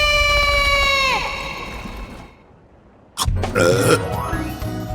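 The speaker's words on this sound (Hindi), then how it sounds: "बर्फ की डकार।" A loud, drawn-out burp after eating snow on Mount Everest, voiced and sliding down in pitch, is followed by a brief quiet and then a burst of bright, busy sound.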